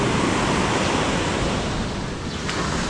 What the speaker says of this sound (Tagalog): Isang araw ba naman, sobrang lakas ng hangin.